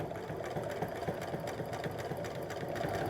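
A sewing machine runs steadily up close, stitching a skirt lining and backstitching over earlier stitches, with a continuous rapid rattling hum for the whole stretch.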